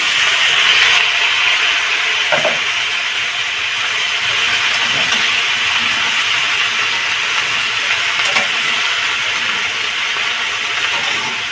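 Bottle gourd greens stalks with a little turmeric sizzling steadily in a pan, a loud continuous hiss with faint crackles and no voices.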